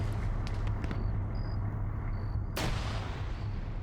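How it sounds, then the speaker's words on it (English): Gunfire in a military shooter game as opposing forces fire at an MRAP: a steady rumbling drone of distant shots, then one sharp, loud crack near the end. "And now we're having Op 4 firing over at this MRAP."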